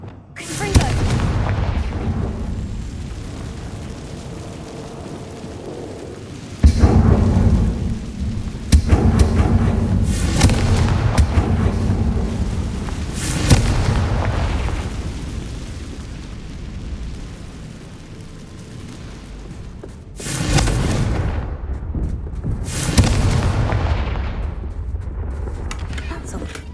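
The Confringo blasting spell explodes in Hogwarts Legacy, with several loud booming blasts spaced apart and rumbling decays, as a voice speaks between them.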